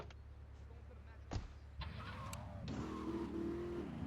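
The Banshee sports car in GTA 3 drives with a low engine drone, then a sharp hit and a rising whine as it accelerates, engine tones climbing and holding. Someone speaks briefly at a distance.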